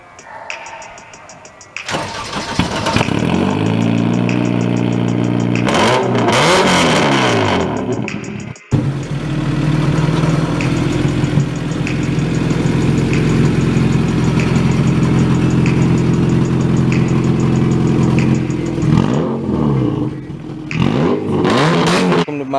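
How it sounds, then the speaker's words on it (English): Honda Civic race car built for dirt racing, its engine starting up, idling loudly and close, then revving in several sharp rising bursts near the start and again at the end, with no talk over it. "Today we have a Honda Civic race car."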